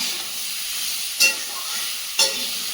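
Vegetable curry sautéing in a pan gives a steady soft sizzle, and a spoon scrapes and clinks against the pan twice, with no voices.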